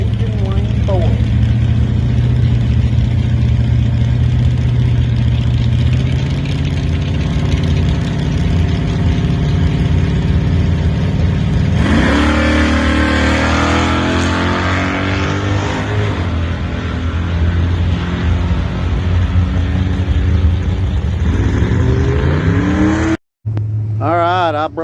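A small-tire drag racing car at a Sportsman bracket race launches from the line, its engine loud and sustained and rising in pitch, with people talking over the noise and a brief cut near the end.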